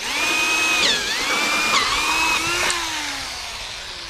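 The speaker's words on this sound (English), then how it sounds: "We're just going to drill into the top to access the line" A power drill with a hole saw whines steadily, its pitch dipping and rising as it bites into PVC drain pipe, continuous for several seconds without talk.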